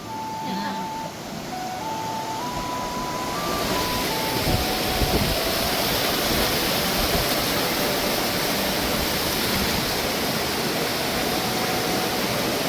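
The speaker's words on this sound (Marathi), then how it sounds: "डोंगरावरून छोटे मोठे सर्व धबधबे ओसंडून वाहत आहेत" Monsoon waterfalls pouring down the hills of a Konkan village, a loud, steady broadband roar that swells and keeps going, with a high tonal whine over the first few seconds.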